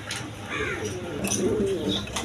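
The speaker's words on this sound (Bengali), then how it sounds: "এখানে এক পেয়ার ব্লু শালিং কবুতর আছে দেখেন" A pair of blue shaling pigeons coo at close range in low, rolling calls, with faint background noise and no talking.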